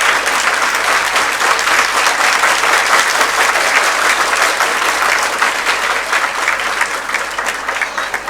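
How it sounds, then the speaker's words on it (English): Children at a graduation ceremony stand and applaud their parents, a loud, dense and sustained ovation from a large crowd that continues evenly and fades slightly toward the end. "I think children clap, stand and clap for your parents. They deserve a standing ovation."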